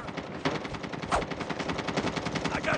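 Rapid automatic gunfire in the mobile shooter Call of Duty, loud and close, with bursts rattling on almost without a break and a few sharper single shots standing out.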